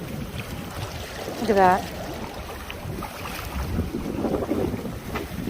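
Strong wind in a valley during a storm roars in gusty rushes against the microphone, with a brief voice speaking early on.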